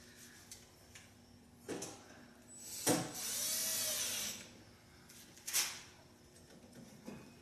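A power drill runs during the install of an Atmor Thermopro electric tankless water heater: a few short bursts, then one longer whining run of about a second and a half, then more brief spurts. The sound is moderately close, with no talking.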